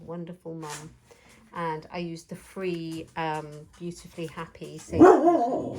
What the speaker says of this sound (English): Sit down, stop barking.